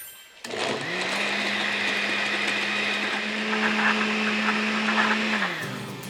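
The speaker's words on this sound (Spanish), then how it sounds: "Ahora sí vamos a licuar nuestro cuáquer" A blender whirs loudly as it blends a chilled oat drink with passion fruit rinds, spinning up after a short click, holding a steady motor drone for about five seconds, then winding down.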